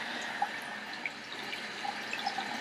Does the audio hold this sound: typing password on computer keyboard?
no